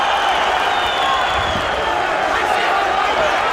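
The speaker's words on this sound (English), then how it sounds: "Crowd is calling for a finish here." Dense, steady roar of a fight crowd at an M-1 Challenge mixed martial arts event, cheering and shouting without a break, with a commentator's voice running over it.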